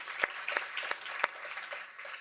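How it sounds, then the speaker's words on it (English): Light, scattered applause from a small audience at a kick-off event, a few sharper claps standing out over a soft, steady patter that stays fairly faint throughout. "if we can give a round of applause"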